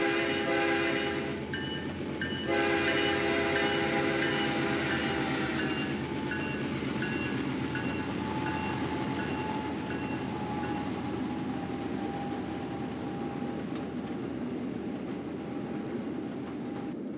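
A long freight train from the Trainz video game, 10,000 feet of loaded double-stacked container well cars, rumbles past with steady wheel noise, a loud horn sounding in several blasts near the start, then continuing clatter.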